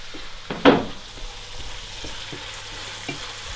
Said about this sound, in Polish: Zobaczcie, jak boczek ładnie się topi.